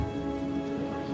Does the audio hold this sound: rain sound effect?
yes